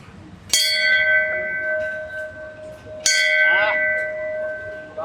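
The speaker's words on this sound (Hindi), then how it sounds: "आप ये घंटी भी बजा सकते हो।" A hand bell is rung on a show set, giving two sharp, close strikes about two and a half seconds apart. Each strike leaves a bright, shimmering ring that slowly fades, with no one talking over it.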